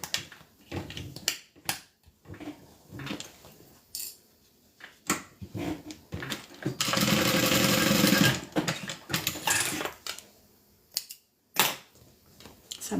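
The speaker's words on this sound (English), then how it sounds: "So I'm just sewing open my side seams" Sewing machine stitching open the side seams of a quilted bag: a loud continuous whirring run of about two seconds amid sharp clicks and taps of handling before and after.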